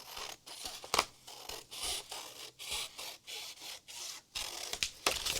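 Scissors cutting a skinny strip of paper for mixed-media holiday tags, a series of close, rhythmic rasping snips repeating about once a second.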